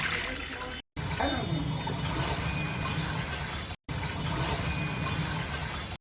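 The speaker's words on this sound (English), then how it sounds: "Machine is draining the water." An IFB top-load washing machine drains water with a steady, loud rushing and gurgling flow that runs continuously, broken by two brief cut-offs.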